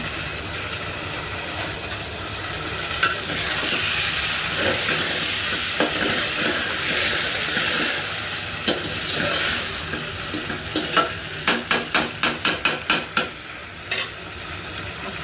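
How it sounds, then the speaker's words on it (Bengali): Taro (kochu mukhi) sautés in hot oil with a steady broadband sizzle, and a quick run of sharp scraping stir strokes comes toward the end, close and fairly loud, with no talking. "কচুমুখি দিয়ে রান্না করবো এই যে কচুমুখি কষাই নিচ্ছি"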